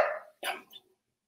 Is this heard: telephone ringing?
no